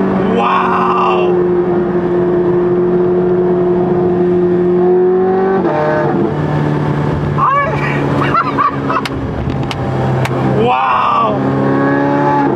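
A modified Ferrari 430 Scuderia engine drones loudly at a steady pitch before dropping and surging through rising revs, staying close and dominant throughout.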